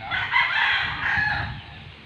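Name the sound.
rooster crowing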